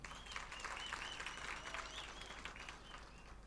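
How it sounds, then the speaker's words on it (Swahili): Applause for teachers at a World Teachers' Day celebration held by a senator's office in Nairobi, a faint distant wash of clapping from a crowd, steady and low. "tafadhali wapigie makofi"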